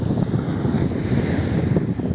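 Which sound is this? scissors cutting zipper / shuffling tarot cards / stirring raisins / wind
wind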